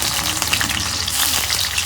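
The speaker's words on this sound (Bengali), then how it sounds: "তেল গরম হচ্ছে এখন আমি পেঁয়াজ কুচি দিয়ে দিব" Chopped onion fries loudly in hot oil in a kadai, a dense, crackling sizzle that stays close and steady throughout, with no talking.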